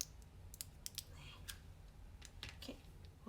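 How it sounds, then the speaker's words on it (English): Scissors snip the end off a piping bag while making Halloween lollies, a few faint, close, crisp clicks and cuts in a quiet kitchen, with no talking. "get a pair of scissors and I'm just going to cut the end off"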